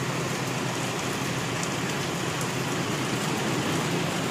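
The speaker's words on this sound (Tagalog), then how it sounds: "Grabe po ang lakas ng ulan." Steady dense hiss of heavy rain pouring down, constant and unbroken, with no voices.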